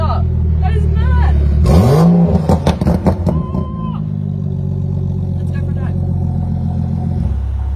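A BMW concept car's engine revs hard, climbing sharply in a loud roar and then settling into a steady idle, heard close up while people talk over it.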